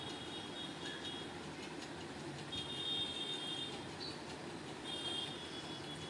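Toy train waiting at Coonoor station before departure: a faint, steady low rumble of station ambience with soft, high intermittent tones and no talking.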